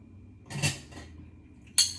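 A metal fork lifted from a pile of kitchen utensils while preparing a healthy chicken and broccoli dinner, giving a brief metallic clatter, a quieter rattle, then a sharp clink near the end.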